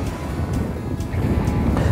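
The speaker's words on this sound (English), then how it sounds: "The wind's starting to blow a lot harder" Strong wind gusting across frozen Lake Winnebago during ice fishing, a loud continuous rumbling buffet on the microphone that swells toward the end, with no other clear sounds.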